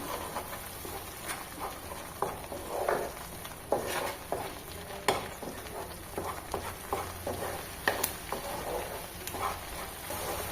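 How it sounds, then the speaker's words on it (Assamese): Spices with chilli powder, salt and turmeric sizzle in a pan while being stirred, giving soft crackling and irregular scraping taps over a quiet sizzle background. "মছলাখিনি ভালদৰে ভাজি ল'ব লাগিব"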